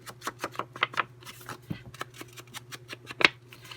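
Paper being cut with scissors at a crafting desk while assembling Christmas kit pages, a quick run of crisp snips and rustles close by, with a steady low hum underneath.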